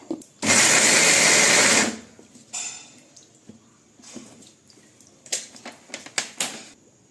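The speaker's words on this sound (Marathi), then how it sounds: "आपण मिक्सरच्या भांड्यामध्ये शेंगदाणे आणि मिरची टाकून घेतलेली आहे। आता ते मिक्सरला बारीक करून घेऊया" A mixer grinder blitzes peanuts and green chillies for a fasting sabudana dish in one loud, roughly one-and-a-half-second burst, followed by quieter clinks and taps of the jar.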